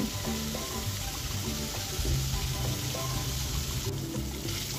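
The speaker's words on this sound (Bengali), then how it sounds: "আমি মাছগুলোকে এবার এক এক করে ছেড়ে দিলাম কড়াইয়ে এবং একটু ভেজে নেব।" Rohu fish pieces frying in hot oil in a wok, a steady close sizzle that holds evenly throughout with faint kitchen clatter underneath.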